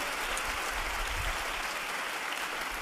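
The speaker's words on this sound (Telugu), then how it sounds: "చప్పట్లు కొడితే యేసుకు స్తోత్రాలు చెప్దాం." A church congregation clapping together in steady, dense applause, fairly close and sustained across the moment with no voices over it.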